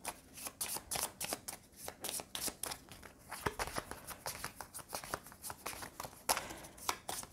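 Cards from the Dune Imperium board game drawn one by one into a five-card hand, a quick series of crisp close flicks and slides on a table with no talk.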